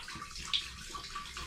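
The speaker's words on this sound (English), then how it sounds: "I'm going to pour the combination of cider and wine, etc. from the demijohn into the still." Cider and wine pour from a demijohn into an air still, a soft continuous trickle and splash of liquid, quiet and close, with no talk.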